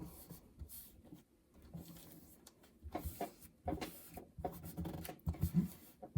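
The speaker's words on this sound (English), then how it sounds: "then just smooth your paper over" Paper being smoothed and rubbed flat by hand in an A5 Hobonichi Cousin Avec planner, soft scraping strokes with a few louder rustles and taps, close and quiet.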